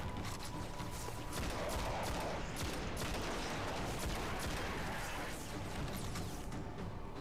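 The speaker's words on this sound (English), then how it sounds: "Shotgun does more damage now." Shotgun blasts and gunfire in the Destiny beta video game, with dense, continuous battle noise and rapid bursts layered throughout, loud and close with no pause.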